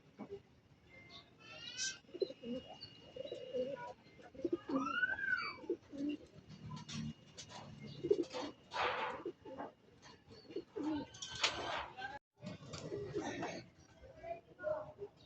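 Pigeons cooing and calling outdoors in the early morning in Cavite, with other birds chirping around them; the soft, repeated coos come and go over about fifteen seconds amid steady background noise, with occasional talk in between.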